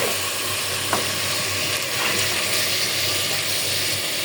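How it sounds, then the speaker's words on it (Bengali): Tempering poured into cooked red lentil dal with raw mango, a continuous bright sizzle and crackle of hot oil hitting the liquid, steady and fairly close throughout with no talking. "ডাল হয়ে গেছে, বাগার দিয়ে দিলাম।"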